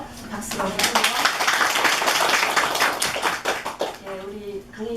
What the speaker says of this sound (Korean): 박수로 주세요.